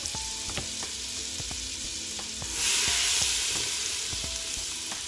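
Garlic sautéing in butter over medium heat for red beans and rice crackles in a continuous sizzle, punctuated by light rhythmic utensil clicks and a brief swell of hiss midway, with no talking.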